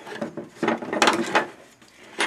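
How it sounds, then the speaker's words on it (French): A screwdriver works a battery terminal screw on a ride-on lawn mower, making close, faint clicks and scraping metallic turns in short irregular bursts. "Donc là je prends un tournevis."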